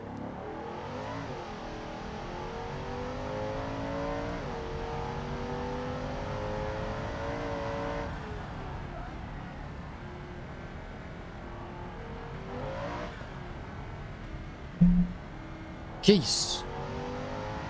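Car engine revving with a rough, diesel-like drone that rises and falls in pitch, steady and fairly close inside the cabin, while people talk over it and a couple of short knocks are heard near the end.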